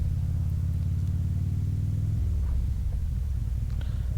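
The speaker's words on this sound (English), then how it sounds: "Oh, gotta wait for the car." A car rumbles past nearby on a street outside Grand Central Market, a low engine drone that swells and then fades over a few seconds.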